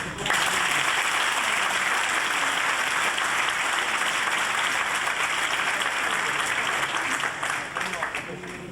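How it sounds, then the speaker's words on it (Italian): An audience at an evening of Sardinian folk music and culture in Olbia breaks into sustained applause, a thick even roar of clapping that holds loud for about eight seconds before thinning slightly. "spero che un applauso lo incoraggi"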